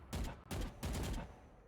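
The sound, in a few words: gunfire in Valorant video game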